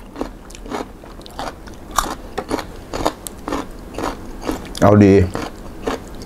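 Crunchy three-mushroom chili paste bitten and chewed up close, a steady series of crisp crackling crunches with a louder burst near the end, while a voice speaks briefly.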